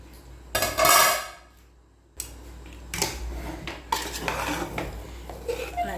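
Chicken wheat rava biryani is stirred in a pot with a metal spoon, giving sharp clanks and scraping against the pot in irregular bursts, close and fairly loud, separated by brief quiet gaps.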